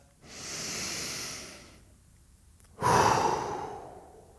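A deep, slow inhale lasting over a second, a brief pause, then a strong audible exhale, close and breathy, done as part of a martial arts home workout.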